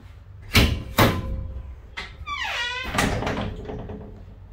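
Walk-through door on a 2018 Lakota Big Horn three-horse living-quarters trailer worked open and shut: two sharp metallic thunks close together, then a rising squeaky creak of the hinge and a final latch clunk, close by and loud.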